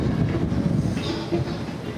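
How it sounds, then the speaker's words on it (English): Wind buffets a microphone outdoors at Coxen Hole, Roatan, with a low, steady rumble and gusty roar that persists throughout. "it's a little windy out right now"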